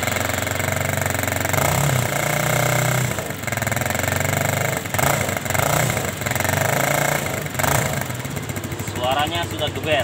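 A loud motorcycle engine with a modified exhaust revs repeatedly with a raspy, throaty sound, rising and falling in bursts while voices talk faintly underneath.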